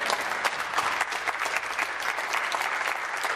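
Members of a legislature applaud during question period, a dense, even burst of many hands clapping that holds steady for a few seconds with no speech.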